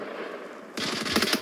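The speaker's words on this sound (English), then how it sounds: "Gran got hit by 1 of those gunshots." Rapid gunfire erupts in a competitive team-versus-team shooter match, a burst of quick sharp shots arriving after a near-silent moment, fairly faint and without voices.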